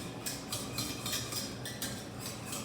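Duchesse potato mixture whisked by hand with a wire whip, a faint, quick, regular scraping and clicking that repeats several times a second, alone with no talk.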